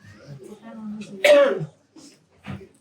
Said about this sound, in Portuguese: Eu estou com a tosse que daqui a pouco faz aniversário.